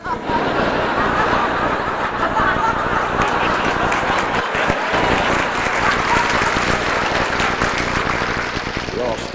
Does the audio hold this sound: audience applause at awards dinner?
yes